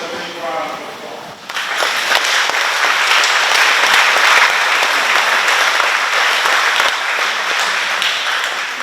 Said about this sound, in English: let's welcome our President to the podium with a big round of applause